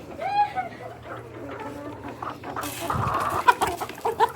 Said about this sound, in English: this big rooster